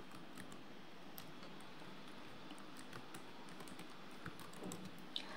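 Rapid, uneven typing on a computer keyboard while entering several email addresses, with steady soft key clicks at close range over faint background hiss and no talking.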